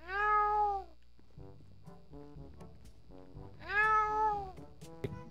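A cat lets out two long, drawn-out meows a few seconds apart, close and clear, with quieter muffled sounds and faint background noise between them.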